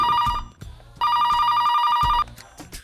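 A telephone rings loudly in two long electronic bursts with a pause between, close by, with faint background clatter.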